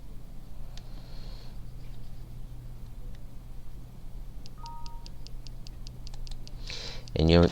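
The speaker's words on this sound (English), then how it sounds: "you'll probably hear the speaker clicking as well" A small speaker on a programmable board ticks in a steady row of faint, evenly spaced clicks in time with a blinking LED, under a low background hum, followed by a brief louder noise at the end.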